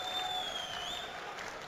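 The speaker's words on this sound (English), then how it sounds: "you can hear the noise of the crowd" Crowd murmur at a PDC Austrian Darts Open match, a steady moderate hubbub of many voices with a faint whistle-like tone, continuous and without speech.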